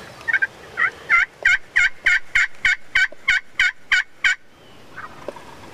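Wild turkeys gobble about a dozen times in quick succession in Kansas, loud and fairly close, each call a rapid rattling burst, then fall quiet.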